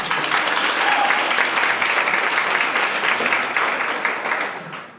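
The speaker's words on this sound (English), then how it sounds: "let's give them another hand clap" An audience at a city State of the City event claps in a full, close burst of applause that holds evenly and then tapers off at the end.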